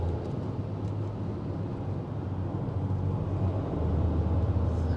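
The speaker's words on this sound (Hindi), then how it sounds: "थोड़ा सा टायर की आवाज़ जो है वो आ रही है" Tyre roar from a 2025 Tata Altroz on the move forms a steady, dense low rumble with broadband road hiss, continuous and fairly close, with no talking over it.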